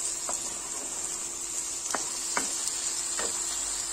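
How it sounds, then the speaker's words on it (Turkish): Potatoes and carrots frying in a pan make a soft, even, high sizzle, broken by a few brief taps of a stirring utensil. "Şimdi patateslerimi ilave ediyorum. Onları da güzelce kavuruyorum."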